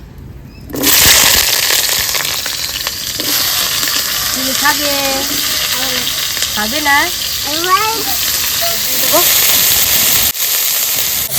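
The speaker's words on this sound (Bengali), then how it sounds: "এবার আমি নিম বেগুনটা ভাজবো তার জন্য কড়াইতে তেল দিয়ে দিয়েছি এবার বেগুনটা দিয়ে দেবো" Brinjal slices frying in hot oil in a wok, a loud steady sizzle and crackle running throughout, with a voice speaking briefly over it.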